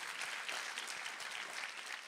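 An audience in a church service claps steadily, a dense, continuous patter of many hands filling the space at moderate volume.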